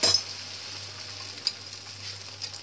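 An egg roll fries in ghee on a hot pan with a steady soft sizzle, joined by a few light clinks of a utensil against the pan.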